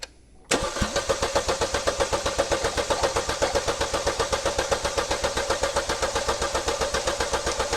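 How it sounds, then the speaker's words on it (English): A Chevy Cruze engine cranks on the starter during a turbocharger replacement: a loud, steady rhythmic chugging of many even pulses that starts abruptly after a quiet moment and keeps going without catching. "Now I've got an assistant inside the vehicle, and we're going to crank it"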